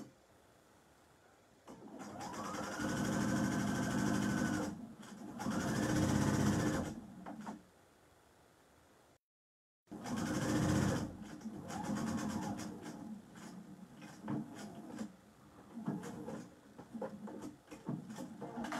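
Sewing machine stitching a layered denim and cotton apron along three sides, running in two short bursts, a brief pause and break, then a longer continuous run, close and fairly loud.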